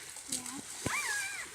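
A dog splashes and plays in shallow creek water in a dried-up summer pasture, with a few brief sloshing splashes up close while voices chatter over them.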